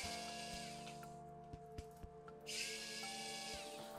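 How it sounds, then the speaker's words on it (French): A WORX WX240 electric precision screwdriver removing screws, its small motor whirring steadily at low level, with a few faint clicks in the middle and the whine rising again toward the end. "On va carrément retirer les vis comme test."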